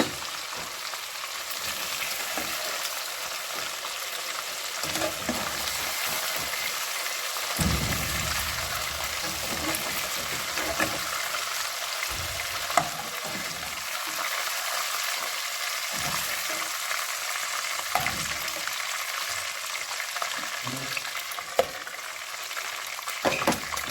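Salmon pieces fry in a pan with a steady, crackling sizzle like light rain, close and even throughout, with occasional small pops and stirring knocks and no voices.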